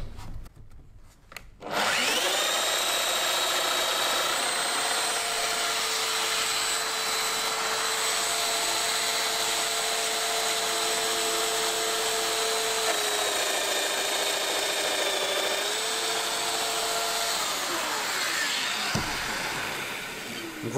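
A Lamello-style power biscuit joiner plunges 25 mm deep slots into wood. Its motor kicks in after a short pause and holds a loud, steady, close-up whine with a faint pitch shift near the end before winding down.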